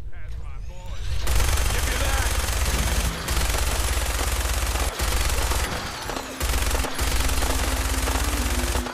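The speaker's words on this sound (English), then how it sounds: "Who needs to aim when you got a freaking minigun?" A minigun in Fallout 4 roars in a loud, continuous stream of rapid fire for several seconds, broken only by a few brief gaps.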